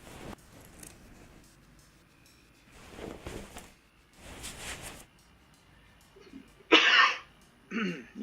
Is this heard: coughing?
yes